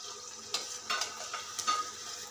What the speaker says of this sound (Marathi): मोठ्या गॅसवरतीच आपल्याला कांदा जो आहे तो फ्राय करून घ्यायचा आहे